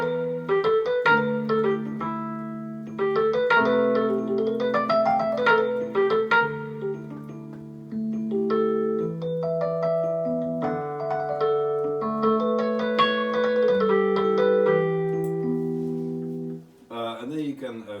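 KORG SV-2S 88 stage piano played through a clean amplifier model, with sustained chords and a melodic line moving steadily, close and clear, with no talking.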